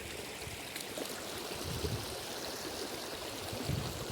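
Rainwater runs continuously across a soaked peanut field, making a steady, even rush of flowing water with no pauses and no voices.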